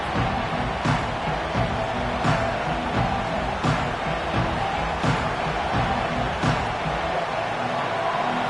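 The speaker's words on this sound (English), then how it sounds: "This crowd ready to make its presence known." A football stadium crowd roars continuously, loud and dense, with rhythmic peaks roughly every second and a half, like stomping or chanting, and faint talk beneath.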